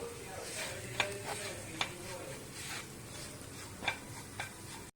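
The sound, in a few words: mixing spice powders in a pan for quail egg roast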